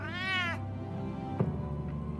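A cat in Batman: The Telltale Series lets out a single clear, rising-and-falling meow lasting about half a second, followed by quiet background ambience and a faint thump.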